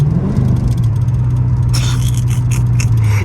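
A straight-piped truck rumbles at idle during a late-night drive, a deep steady exhaust burble close by with some scraping noise on top and no talk.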